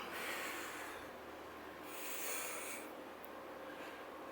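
Heavy breathing during an arm workout exercise, repeated breathy snorts and exhales over background hiss, fairly close and moderately loud, with no speech.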